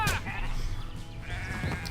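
Sheep bleating in the video game Renowned Explorers, a couple of wavering bleats rising over a noisy game soundtrack, close and moderately loud.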